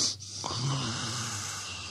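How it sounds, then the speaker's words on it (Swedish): A single snore comes close and loud, a rough snorting inhale with a rasping, wheezy tone, lasting about a second and a half before trailing off. "Snarkningarna kommer att skaka kokosnötterna från träden."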